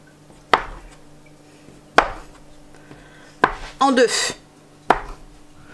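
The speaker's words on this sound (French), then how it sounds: "je coupe un morceau en 2, ensuite en 3" Knife chopping through dough on a board in a home kitchen, several sharp separate cuts spaced about a second apart, close and clear, with someone speaking French briefly between cuts.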